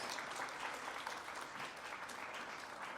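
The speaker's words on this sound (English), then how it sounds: "please give her a round of applause" Steady, dense applause from a seated audience at an interfaith conference fills the hall, evenly sustained without pause and with no voices standing out above it.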